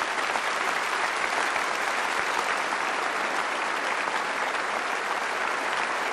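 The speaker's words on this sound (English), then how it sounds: "I think that deserves a round of applause" Sustained, dense applause from the audience at the 1978 Miss World contest, a loud and even roar of many hands that holds steady without pause.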